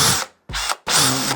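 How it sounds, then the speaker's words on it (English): A power drill bores into a crystal ball prop for a Madame Leota build, running loud and close in three bursts separated by short pauses. "make sure your hands are not in the way of the drill bit"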